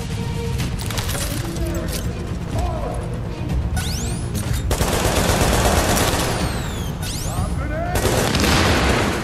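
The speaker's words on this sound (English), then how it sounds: "I think I just learned how to fire my very first proper grenade" Grenade launched amid a firefight in The Division, with dense rapid gunfire, mechanical clatter and booming blasts filling the whole stretch, loud and close, with a voice talking in the mix.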